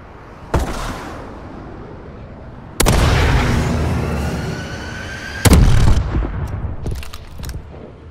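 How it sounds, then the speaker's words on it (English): Friendly missile strikes hitting in a Call of Duty exo game, three separate heavy explosions spaced a couple of seconds apart, each a sharp loud boom followed by a long rumbling decay and scattered debris crackle. "Friendly missile strikes incoming."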